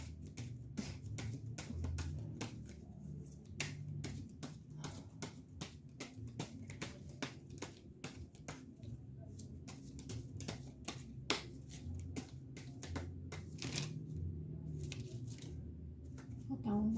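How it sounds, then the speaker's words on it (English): A deck of cards being shuffled by hand, with steady repeated riffling snaps and slaps throughout, close and fairly quiet, with no clear speech. "I'm not a very good shuffler."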